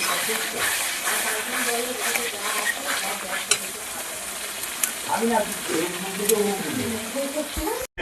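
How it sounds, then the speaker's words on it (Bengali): Chicken is sautéed for a red curry, stirred in a pan of cooked-down spices, giving a steady close sizzle and frying hiss with scraping stir strokes that grow more active toward the end, a voice faintly present. "এই যে চিকেনটাকে এখানে ভালো করে কষিয়ে নেওয়া হচ্ছে এখন"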